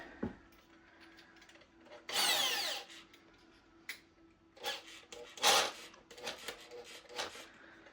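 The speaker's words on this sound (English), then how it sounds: "I gotta clear the insulation out of the way so it doesn't get caught up in the drill bit." A power drill whirs in several bursts of varying length, biting through wood in an off-grid cabin wall with insulation, with ratcheting clicks and clatter between runs.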